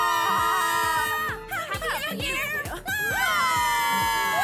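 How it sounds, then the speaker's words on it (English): Cartoon characters at a New Year party scream together in high, wavering voices. The screams swoop up and down in pitch over a rhythmic musical beat, loud and close. "Why are you all screaming?"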